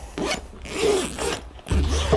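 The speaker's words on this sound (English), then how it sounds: "you're gonna have to kind of push up and down with these zippers to get them over the corners." Zippers on a GRAB bag with a magnetic seal are pushed back and forth over its corners. The result is close, raspy zipping strokes in several uneven bursts, loud and scratchy, with no talking.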